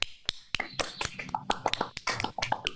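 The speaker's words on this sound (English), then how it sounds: "give yourselves a round of applause" Teens in an online acting class clap for each other, a scattered run of sharp, uneven claps coming through over a call, with voices talking over them.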